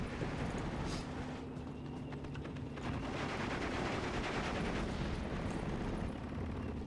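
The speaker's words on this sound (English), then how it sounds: "I'm gonna use my leader sniper to kill the 3-star machine gun" Sniper and machine gun fire from the battlefield of the strategy game Steel Division II, a continuous, fairly distant crackle of rapid shots with occasional sharper reports, steady throughout and fairly faint.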